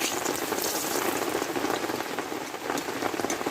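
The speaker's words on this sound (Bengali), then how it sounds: "এই তেলে আমি দুটো শুকনো লঙ্কা দিয়ে দেবো" Two dry red chillies frying in hot oil in a pan, a steady dense crackle and sizzle like light rain, continuous and fairly close with no voices.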